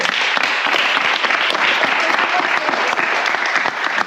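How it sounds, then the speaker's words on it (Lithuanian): A group at a summer camp applauds in a dense, steady burst of clapping that fills the room and runs loud and unbroken from start to finish. "Čia plojimai normalūs."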